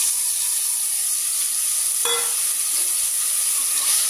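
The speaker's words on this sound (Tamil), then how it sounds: "இதை நம்ம நல்லா வதக்கிடுவோம்." Ground onion and tomato paste sautéing in oil in a cooker for a chicken curry, a steady close sizzle and hiss, with one brief stirring scrape partway through.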